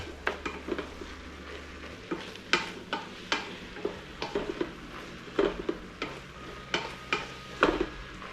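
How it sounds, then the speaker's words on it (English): A spoon stirs goulash ingredients in a pot, with scraping and clinking strokes in an irregular rhythm over a quiet sizzle, close and moderately loud, with no talking. "So we're just going to add all this to the pot. Like that. And get this stirred up pretty good."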